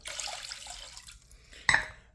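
Water being added to a bowl for a spiritual bath, a soft pouring and splashing that quiets, then a sudden clinking splash near the end, close and fairly faint.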